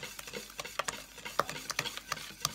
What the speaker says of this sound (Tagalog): bubuhos natin unti-unti yung fresh milk sa egg habang hinahalo natin siya.